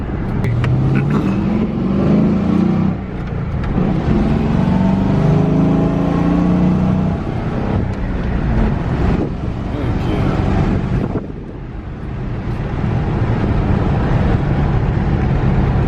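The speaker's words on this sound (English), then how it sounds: "I'm just testing this customer car" A 2009 Ford Crown Victoria engine with a swapped five-speed manual transmission drones steadily while driving, with strong wind rumble and road noise throughout and a brief dip in loudness near the end.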